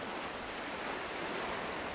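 Ocean waves and water lapping against a boat in an Unreal Engine game scene, a soft, steady wash of surf noise, fairly quiet and continuous with no distinct breaks or voices.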